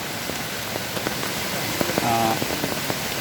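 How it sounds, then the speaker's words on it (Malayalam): Light drizzle falls outside a cave along a landslide-hit stream route, a soft steady hiss with faint scattered drips and a brief tonal sound partway through. "പക്ഷെ മഴ വളർത്തുന്ന ലക്ഷണമൊന്നുമില്ല, തൂളിക്കൊണ്ട് നിൽക്കുക."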